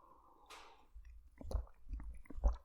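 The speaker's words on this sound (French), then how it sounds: "je prends juste une gorgée" Someone takes a sip of a drink during a quiet podcast recording, with close, soft gulping and wet mouth sounds in a few short bursts and no talking over them.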